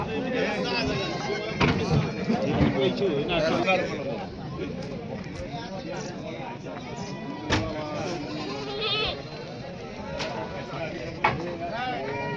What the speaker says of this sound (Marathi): शेळ्या